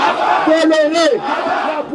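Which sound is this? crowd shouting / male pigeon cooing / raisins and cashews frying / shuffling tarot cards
crowd shouting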